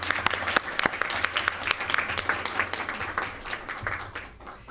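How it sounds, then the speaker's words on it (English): Audience applause at a school board of education regular meeting, a crowd clapping in a lively patter with sharp individual claps standing out, steady for several seconds and tapering toward the end. "I would just love to give another round of applause to these people"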